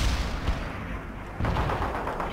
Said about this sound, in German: Setzen den Granatwerfer ein, Sir.